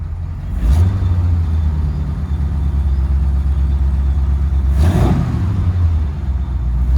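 A 1939 Ford Deluxe coupe's built flathead engine idles steadily and close by, with two short revs swelling above the low rumble, one near the start and another later on.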